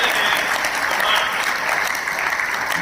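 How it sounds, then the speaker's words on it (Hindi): Loud, steady audience applause fills a hall at a Haryana AYUSH department health event, continuous clapping from a large crowd with no break throughout. "तो एक बार जोरदार अभिनंदन देखिए।"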